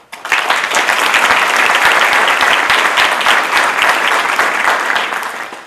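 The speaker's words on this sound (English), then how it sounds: "ask you to give him a round of applause" A large conference audience applauds steadily for a county District Attorney, a dense, loud wash of clapping that swells quickly and holds for several seconds before tapering off.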